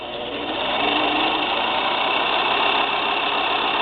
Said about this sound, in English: Now this arm that moves back and forth is keeping the bobbin thread tight on the bobbin.